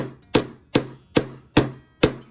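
A hammer strikes wire five times in an even, steady rhythm, each whack sharp and close with a short ringing decay, alone without talk.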